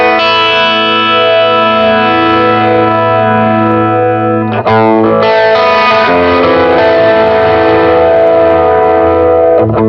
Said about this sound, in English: So this is the chorus sound.